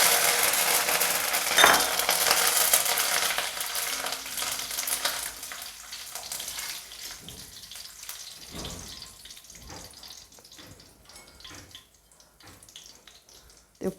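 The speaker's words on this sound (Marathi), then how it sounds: "आपल्याला तेलात कढीपत्ता पण तळून घ्यायचा आहे" Curry leaves crackle and fry in hot oil in a kadhai, a loud dense sizzle at first that thins and fades to scattered spits, with a faint faucet-like splash and no talking.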